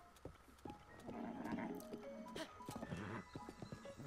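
Goats bleat in Zelda: Breath of the Wild around Kakariko Village, with several short animal calls and hoof-like clip-clops over a busy game soundscape, fairly close and moderately loud.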